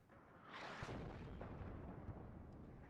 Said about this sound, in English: Whilst the artillery of Joker is still counter-batterying.